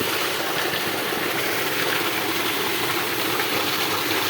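A Liverpool 7.5 hp electric water pump motor with a 4-inch delivery split into two outlets runs close by, giving a steady, loud broadband roar of motor hum and rushing water with no pauses.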